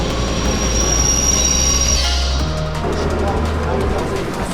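A Swiss train rolls along loudly near Geneva Airport with a continuous rumble, sharp metallic wheel squeals that fade after a couple of seconds, and steady track noise.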